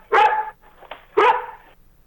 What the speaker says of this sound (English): I'm gonna have some problems with a dog right now